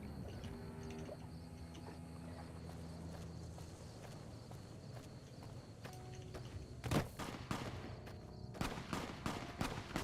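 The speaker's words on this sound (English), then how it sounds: "I hear gunshots." Gunfire in the Fallout: New Vegas game world, distant at first under a quiet ambient bed, then a sharp burst and scattered shots in the last few seconds, mixed with faint footstep-like taps.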